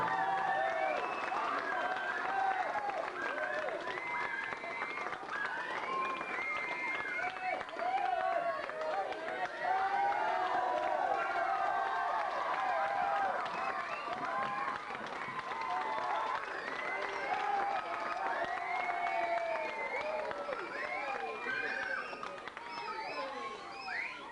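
Sustained applause and cheering from a large crowd at a McCarthy Cup presentation, dense clapping going on steadily throughout with a raised, excited roar.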